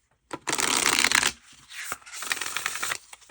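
Oracle cards are shuffled in two quick, crisp riffling bursts with a short pause between them, close and fairly quiet.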